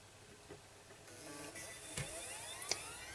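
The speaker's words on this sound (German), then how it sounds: "die drehen halt an, wenn ich Strom drauf gebe" Loose hard disk drives stacked on one another spin up when powered, giving faint rising whines and a few small clicks and knocks as the platters come up to speed, quiet and close.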